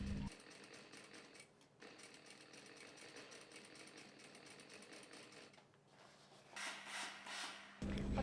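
Sewing machine stitching along the fabric edge of a cambric flounce lining for a skirt, a steady fast mechanical whir with brief pauses, ending in a short louder burst.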